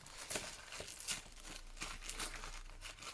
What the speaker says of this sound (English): so I'm just going to tear down there.